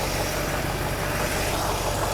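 A 1979 Mercedes-Benz 350 SL C107 V8, just repaired with a rebuilt fuel distributor, runs at a steady idle, a dense, unbroken engine rumble close by with no voices.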